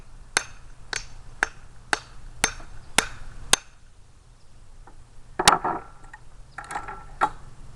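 Hammer strikes driving a wooden wedge into the head of a replacement hammer handle: eight sharp, evenly spaced blows, then a brief pause and a couple more knocks with some clatter, close and clear.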